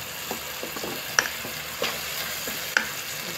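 Oil sizzles steadily in a pot for mutton curry, with occasional sharp stirring scrapes and clinks over the continuous frying hiss; no talking.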